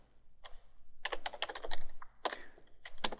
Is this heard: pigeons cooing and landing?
no